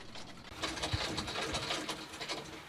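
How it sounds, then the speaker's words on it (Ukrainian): A home sewing machine stitching flags, a faint, fairly quiet mechanical whirr with a steady rapid rhythm from about half a second on, alone without speech. "Працювати за швейною машинкою та власне шити прапори неважко"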